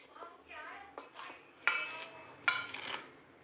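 Cornflour and rice flour coating being mixed in a bowl for crispy soya, a spoon scraping and clinking against the bowl in irregular close strokes with a few sharper knocks.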